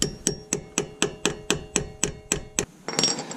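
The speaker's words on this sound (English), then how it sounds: "Grab our hammer. Tap it in a couple times." A hammer taps a part into the brake of a 2019 Mustang GT, about ten sharp metallic strikes at a steady rhythm, close and crisp, followed by a brief duller clatter.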